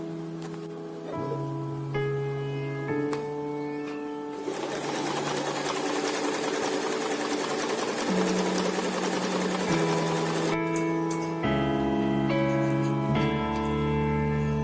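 A sewing machine runs a hairline stitch along a seam, a continuous close mechanical whir and rapid needle clatter that shifts pitch as the speed changes, with no voices.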